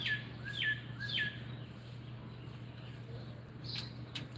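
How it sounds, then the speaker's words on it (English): Several bright, sharp bird calls sound in the first second and a half over a steady low hum, with a fainter call near the end; blue jays calling outdoors. "I do hear blue jays."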